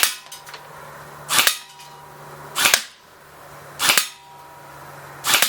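A Bolt B4A1 BRSS blowback airsoft rifle fires four sharp, evenly spaced shots about a second apart, each a crisp snapping crack with a mechanical clack from the recoil system.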